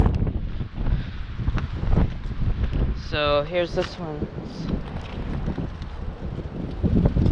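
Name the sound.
wind blowing on the microphone outdoors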